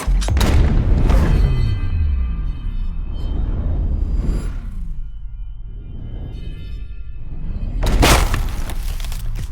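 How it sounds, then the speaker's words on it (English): A tree exploding, designed as a slow-motion sound effect: deep drawn-out booms and rumbling cracks that sweep down and swell again near the end, loud and with no talk. "I then finished off with the tree exploding."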